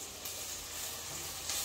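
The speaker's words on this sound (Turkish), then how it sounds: "Şimdi soğanla biberler güzelce kavruluyor." Onions and peppers sizzle in a frying pan during home dinner cooking, a steady close hiss with no pauses and no talking.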